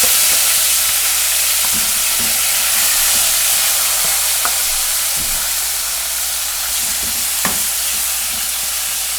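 Chicken meat fries in a pot for a Haitian sauce of okra with chicken, giving off a steady, loud sizzle and hiss. Faint clicks of stirring are scattered through it, and no one speaks.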